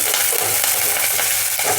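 Curry leaves dropped into hot oil for a carrot and grated coconut stir-fry crackle and sizzle loudly and steadily up close, a continuous bright spatter with no voices.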